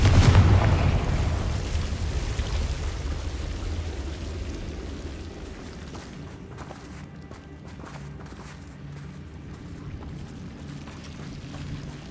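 A Confringo blasting spell explodes in Hogwarts Legacy while exploring a mine: a loud blast at the very start rumbles and slowly fades over several seconds into low ambient noise with faint footsteps.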